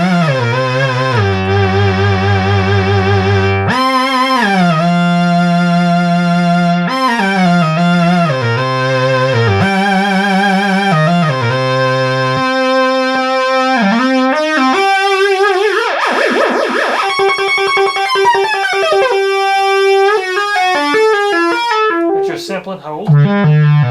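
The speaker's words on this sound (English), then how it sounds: "Your modulation works for your oscillators." Oscillators of a restored Moog/Realistic MG-1 synthesizer sweep and step through modulated tones, loud and continuous, with shifting pitches, wobbling vibrato and a sample-and-hold style stepped run near the end.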